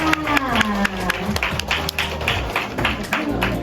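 Wedding guests applaud the bride and groom at a Thai wedding reception, a steady patter of hand claps mixed with music and indistinct chatter throughout.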